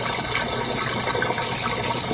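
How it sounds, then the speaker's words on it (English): A barrel aquaponics drain sucking water and air down, a loud continuous gurgling rush of draining water heard up close, steady and unbroken. "see how it's already sucking water and air down through there"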